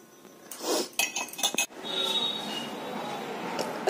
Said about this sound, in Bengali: এখন কফিটা আগে মিশিয়ে নিয়ে কফিটা আগে খেয়ে নে।